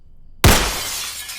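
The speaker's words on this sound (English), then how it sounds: "The window shattered, Space Maddie and the kids ducking down" A window's glass shatters in one sudden loud crash, followed by a long bright spray of falling shards that slowly fades, heard alone without voices.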